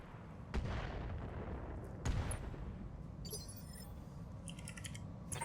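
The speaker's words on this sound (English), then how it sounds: "Firing." Weapons fire in a vehicle-combat video game: two sharp, distant-sounding shots about a second and a half apart, then a rapid run of light clicking bursts, all fairly faint over a steady low rumble.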